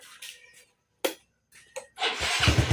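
A Yamaha Mio i 125 scooter engine starts: a few short clicks and bursts are separated by silence, then the engine catches into a continuous running sound close by.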